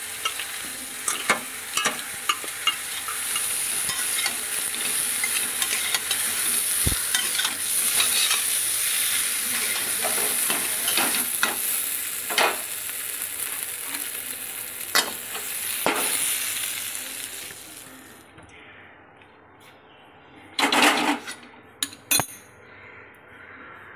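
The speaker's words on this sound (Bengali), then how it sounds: "এদিকে ফুলকপিটাও ভাজা হচ্ছে" Cauliflower fries gently in a little oil over low heat, giving a steady bright sizzle with frequent stirring scrapes and occasional clinks of a utensil, the sizzle dropping away near the end before a few more clanks.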